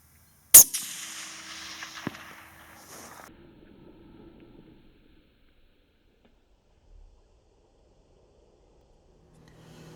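A single sharp rifle shot from a Browning X-Bolt, fired at a target 368 metres away, cracks loudly and decays into a long outdoor echo. A faint tail follows, then near silence.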